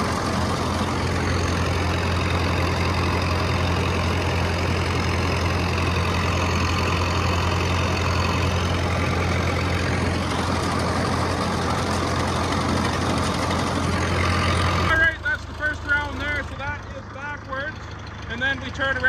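A tractor engine runs steadily in a hay field during the 2024 hay season, a constant loud low drone that cuts off sharply near the end, leaving quieter scattered sounds.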